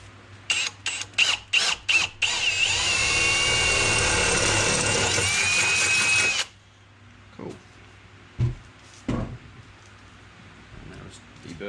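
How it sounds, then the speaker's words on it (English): Power drill boring a hole in a Ford FG Falcon during a battery relocation and airbox kit install: several short trigger bursts, then a sustained loud whine for about four seconds that stops abruptly, followed by scattered knocks and handling sounds. "So now I can drill my final hole."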